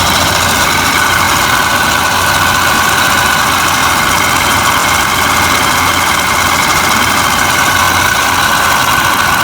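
The V6 engine of a Toyota Camry idles steadily and loudly close by, a constant hum and drone with no change in pitch throughout and no talk over it.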